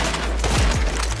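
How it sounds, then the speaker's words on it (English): A heavy explosion booms in the GTA Online video game, a loud, close burst with a short rumbling, crackling decay. "Notice how the explosion fades away once he respawns."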